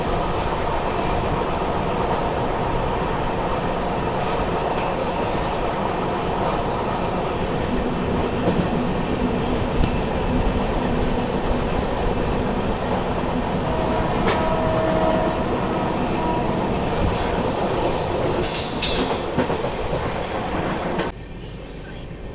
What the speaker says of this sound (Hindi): अभी अपनी ट्रेन स्किप करने जा रही है नर्मदापुरम रेलवे स्टेशन, और शायद आगे सिग्नल भी नहीं है इसलिए एकदम स्लो हो गई है गाड़ी।